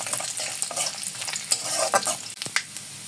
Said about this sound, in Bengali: এরপর দিয়ে দেব রসুন কুচি, হালকা একটু ভেজে নেব।